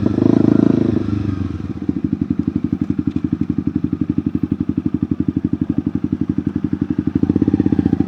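Motorcycle fitted with a loud Akrapovic exhaust, idling close by with a steady, rapid lumpy beat that rises louder at the start and end, alone without talk.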